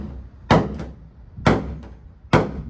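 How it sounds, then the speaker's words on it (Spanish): A hammer tapping on a screwdriver with a sharpened tip during repair of a car hood: three sharp metallic strikes at roughly one-second intervals, close and loud, with faint low background hum. "Déjenme coger martillo."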